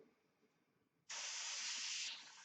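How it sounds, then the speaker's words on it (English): A Grex TF5 airbrush bursts into a steady, close spray hiss after a second of quiet room tone, holding for about a second before tapering off slightly. "I'll show you down here a nice spray pattern there"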